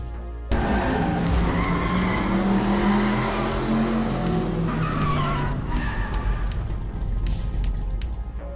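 Race cars in the mobile racing game Rebel Racing roar and skid, with tires squealing over a loud, steady engine drone that lasts throughout, and no voices.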